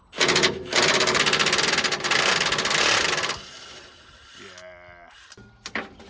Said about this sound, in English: using the new Milwaukee Gen 4 impact driver, which with the socket adapter, it's got a 30mm socket on the end